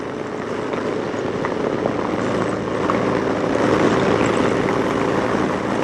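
A motorcycle fitted with a Vance & Hines 2:1 upsweep exhaust drones steadily while riding, its loud continuous engine roar mixed with wind rush and no break in the sound.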